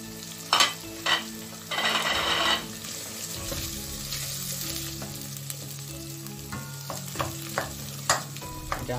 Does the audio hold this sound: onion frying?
yes